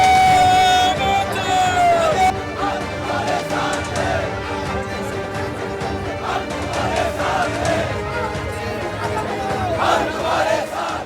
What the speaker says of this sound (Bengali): প্রতিবাদে লোকভবনের বাইরে কংগ্রেসের বিক্ষোভ।